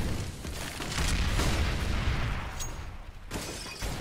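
Grenade explosions rumble in Counter-Strike on the Train map, a dense, booming low roar from several blasts running together, with a sharp crack near the end.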